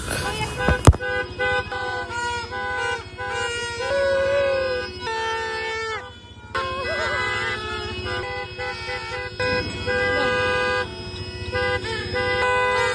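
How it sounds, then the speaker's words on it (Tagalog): Car and motorcycle horns blare on New Year's Eve, long sustained honks layered over each other and nearly continuous, loud and close, with short breaks, while people talk underneath. "At syempre bumaba na nga kami para paingayin naman yung mga sasakyan at motor."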